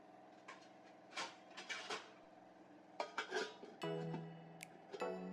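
A lid clanks onto a metal cooking pot of biryani masala with tomatoes, among several sharp clinks and knocks of cookware at close range, with no talking.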